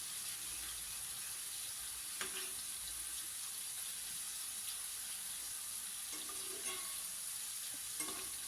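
Prawns sizzle steadily in a hot pan during a prawn roast, with occasional soft scrapes and clinks as they are stirred and turned, quiet and close, with no talking.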